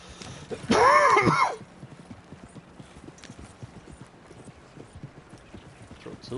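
Horse's hooves clip-clopping in the video game Red Dead Redemption 2, a steady soft rhythm behind a short loud whinny-like burst near the start.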